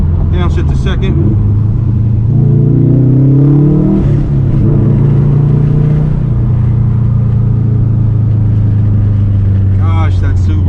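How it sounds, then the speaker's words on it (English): A 2004 Subaru WRX STI engine rumbles and revs as it accelerates through city streets, the deep boxer drone rising and falling through gear changes, loud and close with a voice talking over it. "Gosh, that Subaru rumble. I miss that sound."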